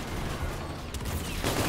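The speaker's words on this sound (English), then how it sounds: "this guy brought a shotgun" Rapid shotgun fire in the Infinite Warfare video game: a dense, loud volley of overlapping blasts with a sharper burst near the end, with no talk.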